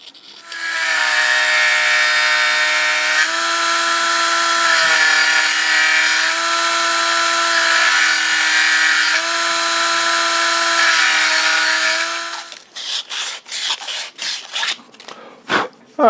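A Dremel rotary tool whines steadily at high speed against a wooden lightsaber blade for about twelve seconds, then stops, followed by a few short bursts of rubbing and sanding close by.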